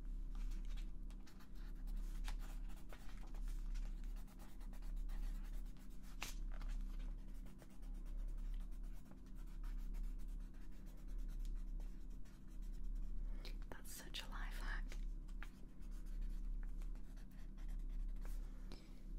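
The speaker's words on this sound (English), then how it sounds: "I will write it down" Pencil or pen scratches on paper in quiet soft-spoken ASMR, with close, steady intermittent strokes over a low background hum and no talking.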